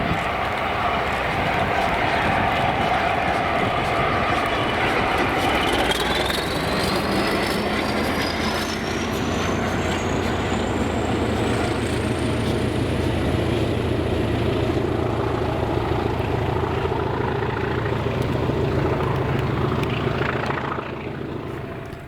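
A train passes close by at Blindwells just after leaving a stop at Prestonpans, heard as a loud, steady rumble and roar that holds for the whole stretch, with a rising whine above it and a fading tail at the end.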